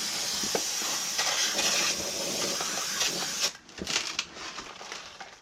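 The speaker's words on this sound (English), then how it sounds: "we're gonna take some brake clean and degrease it" Brake cleaner sprayed from an aerosol can onto a new brake rotor for a Volvo XC60, S60 or S80 front brake job, a steady loud hiss for about three and a half seconds that then breaks into short spurts.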